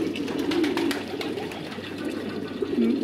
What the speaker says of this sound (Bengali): এগুলা হচ্ছে কাতারিয়ান কবুতর।